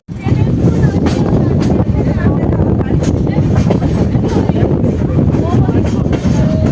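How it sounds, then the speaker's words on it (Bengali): The 12821 Dhauli Express from Howrah pulls into Puri station with a loud, continuous rumble and rattle of rail cars, scattered clanks and clicks, and voices mixed into the noise. "হাওড়া থেকে 500 কিলোমিটার জার্নি করে আমাদের ট্রেন এখন পৌঁছালো পুরীতে।"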